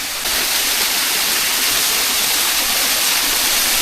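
River water rushing at Shivghat in the Dang forest near Ahwa, a loud, constant broadband roar with no breaks and no voices.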